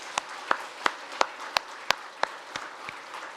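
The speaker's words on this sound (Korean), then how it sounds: "우리 하나님께 영광 박수 드립시다." A church congregation claps together in a steady unison rhythm, about nine sharp, evenly spaced claps that fade slightly toward the end.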